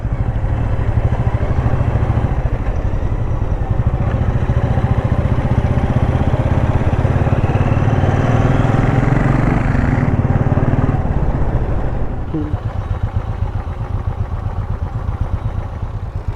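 Motorcycle riding along a road near Chellore Dam in Tirupati, a steady engine drone with wind rush that eases slightly near the end, close and continuous, no talking.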